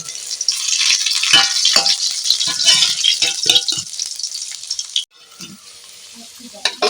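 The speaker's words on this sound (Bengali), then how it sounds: "আলুটা কষা হয়ে গেছে আলুটা আমি তুলে নেবো" Potatoes sautéing in oil in a pan give a loud, dense sizzle broken by repeated rattling scrapes of stirring, then the frying drops to a softer hiss before a couple of final clatters.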